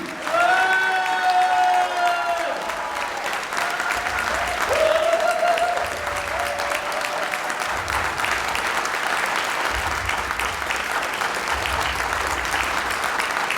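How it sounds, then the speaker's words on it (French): A big round of applause and some cheering in a Walloon cabaret revue hall, sustained dense clapping that holds steady throughout, with shouted voices over the first seconds. "Demandez un tonnerre d'applaudissements pour Jo Olbriou."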